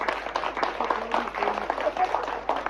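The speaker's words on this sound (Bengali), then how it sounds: "রুনার জন্য একটা বিশাল হাততালি" Applause from an audience at a Satyajit Ray tribute event, a dense, continuous patter of many hands clapping at moderate loudness, with a voice faintly mixed in.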